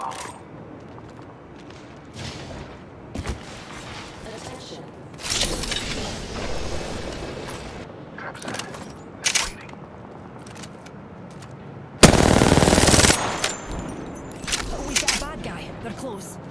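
Gunfire in the video game Apex Legends comes in scattered bursts and sharp shots, with one loud sustained volley near the end, over background game sounds and intermittent talking.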